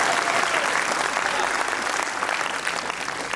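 Audience at a Hindi kavi sammelan poetry gathering claps in a dense, steady wave of applause, fairly distant and even, fading slightly toward the end.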